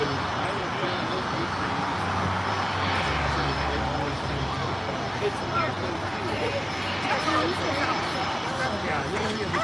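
An airplane at LAX rumbles on the runway with a constant broad engine roar throughout, loud and steady, with faint voices underneath.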